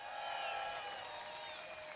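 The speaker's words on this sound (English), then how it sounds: "the crowd always gets so loud for their Colorado native" A large outdoor crowd at a slopestyle mountain bike competition applauding and cheering for Colorado rider DJ Brandt from Grand Junction, a steady wash of clapping and whooping heard from a distance, fairly faint and unbroken.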